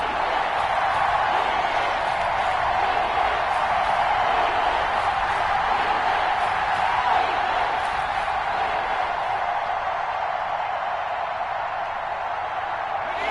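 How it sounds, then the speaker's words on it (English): A stadium crowd at an American football game roars in a steady, loud wash of cheering and noise ahead of a big third down, holding level throughout with no clear individual voices. "The crowd getting into it as we come up on a big 3rd down."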